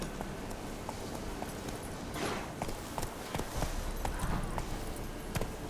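Hooves of Roach, the horse in The Witcher 3: Wild Hunt, clopping in a steady rhythmic walk-to-trot over ambient game noise, moderately near and fairly quiet throughout.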